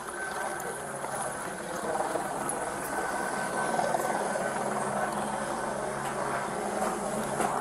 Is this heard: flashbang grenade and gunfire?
no